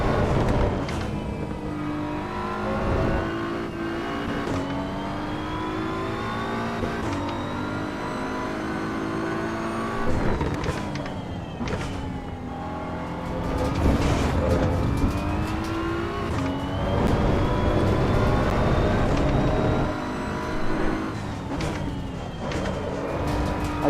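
A BMW M4 GT3 Evo race car laps Laguna Seca in the Assetto Corsa EVO racing game. Its engine roars loudly and continuously, rising and falling through gear changes and braking, with a brief tire squeal and no voices.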